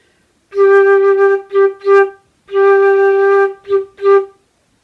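Flute playing a repeated G in a dotted pattern: long note, two short notes, then again, clean and close with silence around it.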